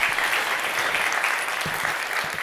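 Conference audience applauding a speaker coming on stage, dense steady clapping from a large crowd filling the room, loud and even throughout.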